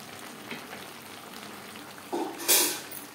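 Fried tangra fish being stirred with bottle gourd in a pan, a soft steady sizzle with a brief louder clatter and scrape of the spoon near the end.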